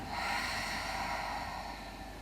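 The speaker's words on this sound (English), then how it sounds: "Take a deep breath in. And exhale." A deep, steady exhale during a gentle yoga breathing exercise, a long continuous breathy rush lasting the whole moment, close and fairly loud with no talking.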